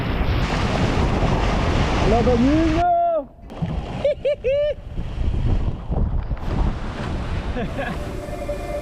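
Strong wind roars steadily across a boat at sea, with waves and splashing, a loud continuous gust noise under a man's speech and whistling tonal bursts.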